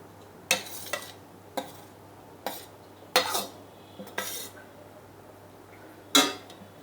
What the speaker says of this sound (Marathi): मी इथे स्टीलचा पॅन तापत ठेवलेला आहे. त्यात आपण ही कैरी घालून घेणार आहोत.